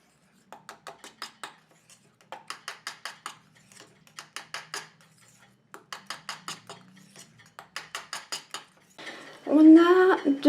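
A utensil scrapes and clinks against a bowl while mixing hair mask ingredients, coming in quick rhythmic bursts of taps, close up, followed by a short spoken phrase at the end.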